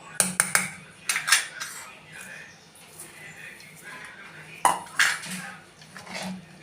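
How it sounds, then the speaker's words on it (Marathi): A utensil whisks jaggery in a pan on the gas for a wheat kheer, giving close, bright metallic clinks in quick bursts with quieter scraping between them. "हे आता गॅसवर गूळ पूर्ण विरगळेपर्यंत फेटून घेऊया"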